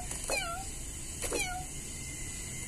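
Two short cartoonish cat meows from lion characters in a mobile arcade game, each a rising-falling whine, spaced about a second apart over steady game background sound.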